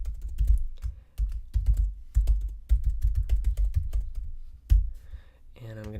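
Rapid clicks of a computer keyboard as an email address is typed, close and distinct, in uneven bursts with brief pauses, followed by a short spoken voice at the end.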